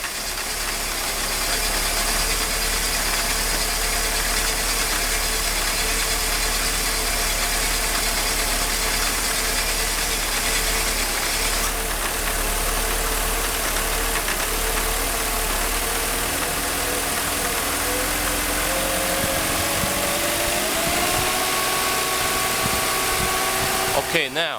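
A Mercedes M104 engine with a faulty throttle body wiring loom idles roughly and misfires, a loud, close, uneven running drone that shifts pitch and rises toward the end as the rpm changes.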